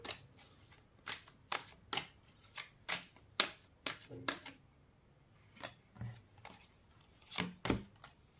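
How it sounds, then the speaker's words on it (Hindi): Tarot cards being drawn and shuffled by hand during a reading, heard as a close series of soft, crisp riffling snaps and flicks in an uneven rhythm, some in quick clusters, with faint background. "थोड़े और कार्ड्स निकाल लेती हूँ,"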